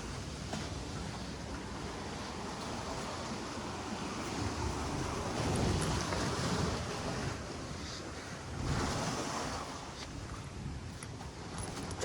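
Sea waves crash continuously at Querim beach in a loud, broad roar with gusty wind noise. The surf swells to heavier surges around the middle and again later.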